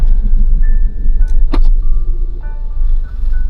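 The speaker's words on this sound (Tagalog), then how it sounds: "may truck kasi at saka may kotse" A truck and a car on a narrow street, with a loud close engine rumble under sustained horn-like tones and a sharp clatter partway through.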